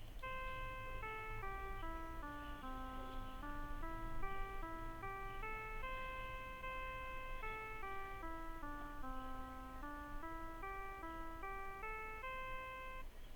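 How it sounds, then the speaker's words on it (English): A sawtooth wave tone generated in Matlab plays a simple stepping melody of bright, buzzy synthetic notes at an even pace, steady and clear over a faint background hiss, with no one speaking. "Okay, that was sawtooth."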